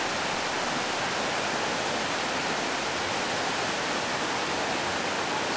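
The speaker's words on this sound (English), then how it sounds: "Probably hear the sound," Fast-moving flash flood water rushes loudly and continuously, a dense, hissing roar with no breaks or other sounds.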